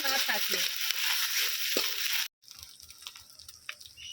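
Ginger paste fries in oil with spices, sizzling steadily and fairly loudly for about two seconds before an abrupt cut to a quieter sizzle with light stirring taps.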